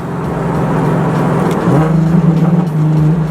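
Nissan 370Z fitted with a cold air intake revs steadily and loudly up close, its exhaust giving a few small pops as the note rises and settles.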